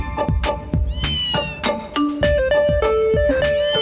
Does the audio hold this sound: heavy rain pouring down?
no